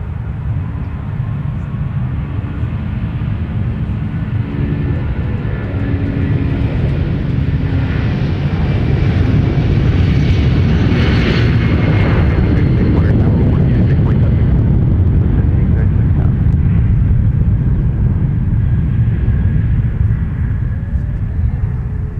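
A jet airliner departing from Minneapolis–St. Paul (MSP) airport produces a loud, sustained broadband roar that swells toward the middle and stays strong to the end, heard from fairly close with no voices over it.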